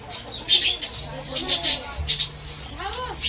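Small birds chirp and tweet in the sparrow enclosure of a bird park in Nashik, with bright, scattered calls close by and people talking faintly underneath.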